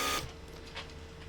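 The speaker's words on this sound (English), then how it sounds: "that was pressure to extend the handle out." A Mercedes W140 door lock pump gives a short burst of pressure to push the trunk handle out of the lid, a brief buzzing whir that cuts off after a fraction of a second, leaving a faint steady hum.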